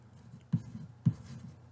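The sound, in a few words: tracing with a pen on paper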